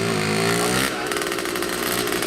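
A 1973 CZ 250 MX two-stroke motocross motorcycle during a wheelie, its engine revving hard and buzzing loudly, the pitch climbing then settling into a rapid, raspy drone.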